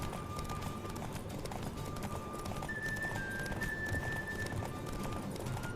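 A horse gallops in The Witcher 3 during a race. Its hooves beat in a quick, steady rhythm, close and continuous, over a faint game background without speech.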